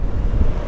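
Strong wind batters the microphone with loud, continuous low rumbling and roaring buffets, close and unbroken, while sitting on a 2022 Honda Forza 125 maxi scooter.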